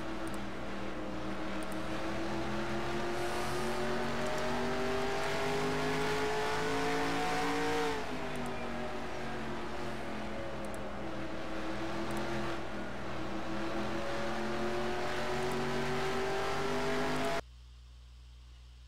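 Race trucks roaring at full throttle during Truck Series qualifying at Indianapolis Raceway Park, a loud sustained engine drone that rises in pitch and shifts midway before cutting off abruptly near the end, with no talk.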